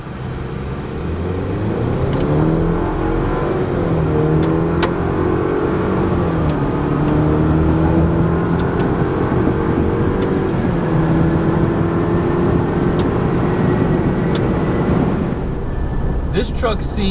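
Chevy Silverado pickup with the 4 Turbo HO engine pulling hard from a standstill to 60 mph, a steady loud engine drone with rising gear-by-gear sweeps and shift dips throughout, easing off near the end.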